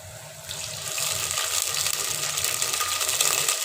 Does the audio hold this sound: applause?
no